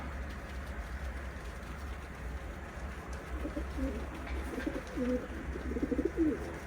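Tumbler pigeons coo in soft repeated rolling phrases near the end, over a low steady rumble and faint background noise, with the cooing growing clearer in the final seconds.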